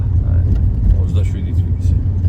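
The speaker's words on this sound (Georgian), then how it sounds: "ვიდეოს გადაღების დროს ამ ადგილზე ერთი მანქანა უეჭველი ხდება, რომელიც მიკატაობს." A car driving past on a driving-test route in Sachkhere, a close low engine and road rumble held steady for a couple of seconds with a voice speaking over it.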